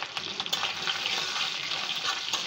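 Boiled dried fish fries in hot oil in a wok, a bright continuous sizzle close by, broken by several quick stirring scrapes.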